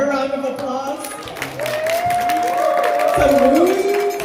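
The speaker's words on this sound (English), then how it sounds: "Can we get a louder round of applause?" Crowd applause and cheering from the audience at a live spiritual talk show and concert at the University of Calgary, a steady loud wash of clapping that swells toward the end, with a voice speaking over it.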